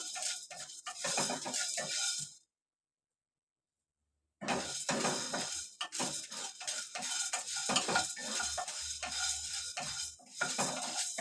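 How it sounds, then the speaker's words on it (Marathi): Whole garam masala spices dry roasting in a pan as they are stirred, with dry scraping and clinking against the metal in steady bursts, a two-second silent gap partway through, no talking. "हे बघा म्हणजे भाजून घ्यायचं व्यवस्थित"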